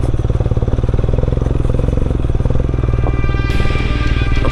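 An adventure motorcycle riding on a gravel road toward a hill temple, its engine a loud, close, steady thumping drone with tyre crunch and rattle, and a slight lift in pitch near the end.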